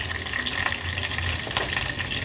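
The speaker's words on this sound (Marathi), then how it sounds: "थोडंसं हिंग घालते फोडणीला।" Hot oil tempering with mustard seeds, cumin, curry leaves and asafoetida for a Maharashtrian veg thali sizzles steadily at close range, broken by a few sharp crackles and pops, with no one speaking.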